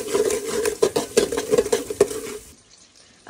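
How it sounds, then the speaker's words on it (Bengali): Onions frying in a pot while being stirred, with rapid repeated clinks and scrapes of a utensil over a sizzle, close and fairly loud, ending abruptly in near silence. "তো তারপরে দিয়ে দিচ্ছি পেঁয়াজ। তো পেঁয়াজটা ভালো করে ভেজে নেব।"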